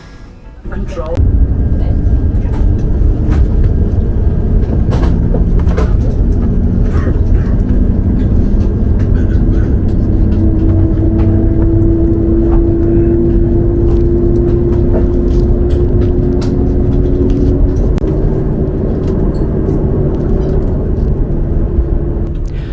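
Loud, steady roar of Airbus A340 jet engines spooling up, with rising whining tones building over a heavy low rumble and occasional clicks.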